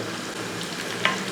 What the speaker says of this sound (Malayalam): ഇതൊന്ന് ഫ്രൈ ആക്കി എടുക്കണം